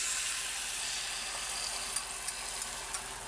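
Eggs frying in a hot pan with bacon fat, a steady bright sizzle with a few soft taps of stirring, close and continuous with no talk.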